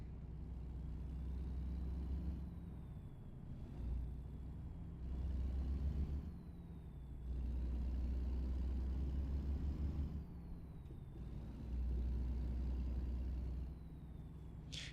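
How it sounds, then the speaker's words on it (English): A dump truck rumbles along the road ahead in a low, continuous drone that swells and eases as it moves, with a faint high whine riding over the engine noise; no one speaks. "Still following that dump truck."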